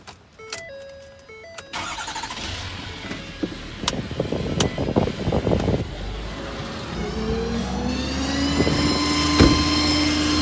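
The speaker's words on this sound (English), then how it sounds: "I'll go ahead and cut the truck on." A 2011 Ford F550 crane truck with a 6.7 diesel engine: a few electronic chime beeps, then the engine cranks and starts, settling into a steady idle with a whine climbing in pitch toward the end.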